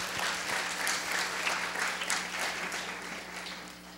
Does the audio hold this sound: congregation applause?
yes